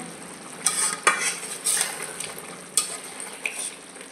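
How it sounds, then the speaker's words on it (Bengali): Potato and pointed gourd curry with garam masala being stirred in a pan, a series of spoon scrapes and clinks over a soft simmering sizzle, close and unaccompanied by speech. "গরম মশলাটা দিয়ে দিলাম, এবার একটু মিশিয়ে নেব"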